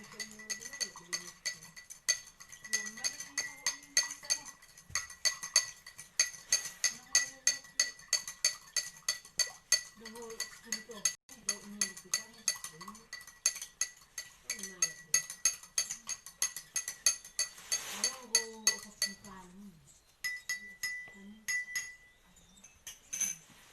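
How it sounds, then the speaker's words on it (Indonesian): A spoon stirs a mixture in a glass during a simple colloid chemistry experiment, producing rapid rhythmic clinking and ringing taps against the glass, close and fairly loud, with short pauses near the end. "Kemudian kita aduk sampai rata."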